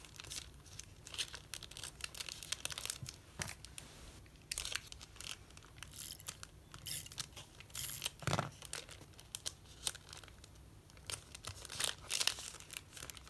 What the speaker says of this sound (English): I think I'm just going to add some tape runner